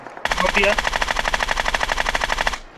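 Rapid sniper rifle gunfire from Free Fire Max, a steady burst of evenly spaced loud shots lasting over two seconds, with brief game tones layered over the first part.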